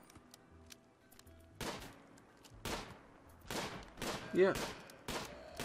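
Gunfire rings out in the sci-fi colony game RimWorld as several sharp, rapid bursts of shots crack over a quiet background, growing denser toward the end, with a voice speaking briefly.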